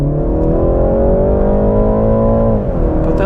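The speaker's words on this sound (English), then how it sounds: "Put that little 4-cylinder to work." A 2022 BMW 330i four-cylinder sedan accelerates from a stop, its engine note loud and steady, rising gradually in pitch before dipping briefly near the end as it shifts.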